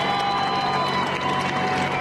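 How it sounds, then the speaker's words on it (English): Neighbors cheering and clapping after a trench collapse rescue, a dense continuous wash of crowd noise at moderate distance, steady and unbroken. "It all ended with a cheering crowd and a man happy to be alive"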